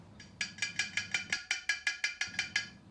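A new, well-fired clay handi pot is knocked about thirteen times in quick, even succession, each tap giving a clear, hollow, ringing tone up close with no voices.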